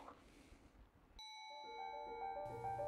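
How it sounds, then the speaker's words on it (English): Struck basalt bedrock in the Palouse rings out like a bell, clear sustained tones that sound alone after a brief silence and layer into several overlapping pitches. "The basalt rings like a bell."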